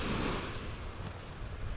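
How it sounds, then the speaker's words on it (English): Waves at high tide wash and splash against the shore up close, a continuous loud broadband surge with wind buffeting the microphone and no voices. "I'm getting splashed because this tide really is high."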